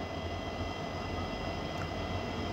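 A downhill freight train with braking locomotives passes on an Indian railway line, a steady low rumble and continuous engine drone at moderate distance, fairly faint and unbroken throughout.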